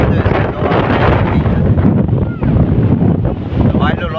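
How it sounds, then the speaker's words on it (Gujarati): Strong wind at the Kadamgiri hilltop viewpoint roars and buffets the microphone, loud, close and continuous throughout with constant gusting rumble. A voice is faintly audible beneath it. "પવન એટલો છે"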